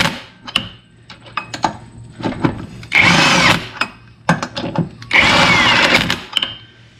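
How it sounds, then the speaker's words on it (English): An impact wrench tightening the lug nuts on a golf cart wheel, with two loud sustained hammering bursts between short trigger blips and clicks of handling, heard close up without speech. "Now we're going to impact them back on."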